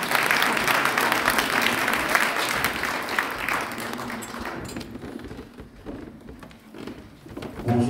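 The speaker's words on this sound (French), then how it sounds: "Vos applaudissements encore une fois" An audience at an award ceremony in Brussels applauds, with dense, sustained clapping that gradually thins and fades, rising again briefly at the end, with faint voices underneath.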